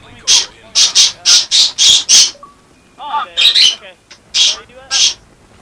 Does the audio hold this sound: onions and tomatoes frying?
no